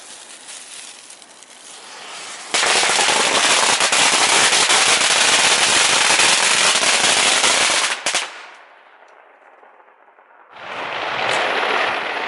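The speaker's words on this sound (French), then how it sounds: "nous entendons au loin les chaînes de pétards claquer" Strings of firecrackers crackle in dense, rapid bursts on Chinese New Year's Eve, loud and continuous for several seconds, then drop to a faint hiss before another burst of popping starts.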